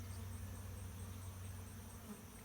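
Dense, steady insect drone of honeybees clustered near a hive beside a house in hot afternoon sun, a continuous low hum with a thin high whine, even and close throughout.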